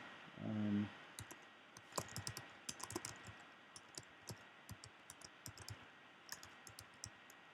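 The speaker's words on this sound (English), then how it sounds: "let's type in some names here" Names typed on a computer keyboard, soft scattered key taps and clicks in uneven bursts, quiet and close, after a brief low thump at the start.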